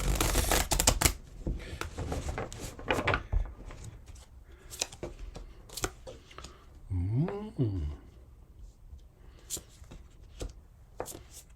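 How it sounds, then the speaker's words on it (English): Crisp riffling bursts of tarot cards being shuffled, repeated several times close up, with a brief bridge flutter in the middle and light handling clicks. "One more shuffle."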